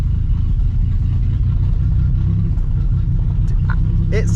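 A 2004 Ford Explorer with a cam idles loudly and close, a steady lumpy low rumble throughout, with a brief higher squeal near the end.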